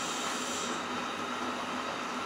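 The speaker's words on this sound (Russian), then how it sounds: "Это Limited Express." Japanese Limited Express train running, heard as a steady, moderately loud hiss and rumble of wheels on rails with a faint high squeal, continuous and without talk.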